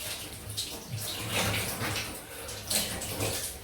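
Water splashes and trickles steadily while shaving lather made with Mitchells Wool Fat soap is rinsed off, a continuous running-water wash with brighter bursts partway through.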